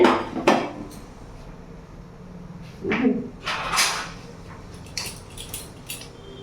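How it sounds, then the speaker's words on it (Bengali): A metal lid lifted off a pot of steaming rohu fish bhapa, with a few distinct clanks and scrapes of metal cookware spread over several seconds, fairly close and moderately loud, without talk. "এবার আমি ঢাকা খুলে দেখব।"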